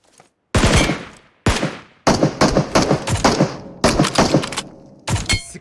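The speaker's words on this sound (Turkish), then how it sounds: "Düşman var ama onu ben bir vurayım." Loud bursts of gunfire in PUBG Mobile, several heavy volleys separated by brief silences, each a dense rattling barrage of shots fired at an enemy.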